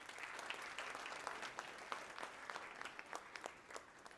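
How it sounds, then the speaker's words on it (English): Quiet, steady applause from a group, a soft patter of many hands clapping at moderate distance, continuing evenly without voices for the whole stretch. "Give yourself one big round of applause for that."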